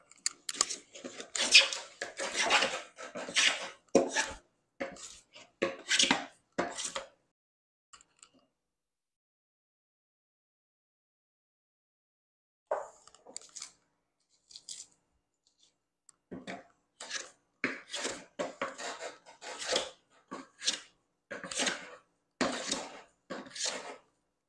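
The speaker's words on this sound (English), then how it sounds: "So I got still a lot of planing to do" A hand plane shaves a wooden board during final dimensioning, making quick, rhythmic scraping strokes in close bursts, with a quiet pause midway.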